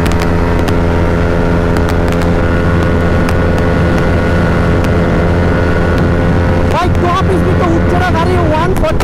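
A KTM Duke 390 motorcycle engine-braking on a road gives a steady, loud harmonic engine drone with wind buffeting, and the pitch shifts near the end as the bike slows.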